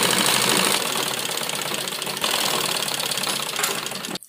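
A sewing machine runs a double stitch on a school uniform, making a fast, steady mechanical rattle at close range that pauses and restarts briefly before stopping with a final knock.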